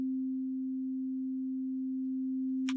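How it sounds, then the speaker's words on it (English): A single steady sine wave test tone plays through a mixing analyzer with tube emulation bypassed, holding one pure pitch evenly and cleanly for nearly three seconds before a brief burst of noise at the end. "So that's a sine wave, a single discrete frequency right there."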